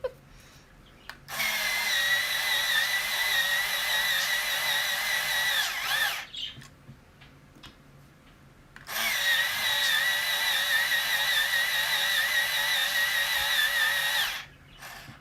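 An electric pencil sharpener grinds coloured pencils in two loud, steady bursts of about five seconds each, with a high whining buzz and quiet pauses between them.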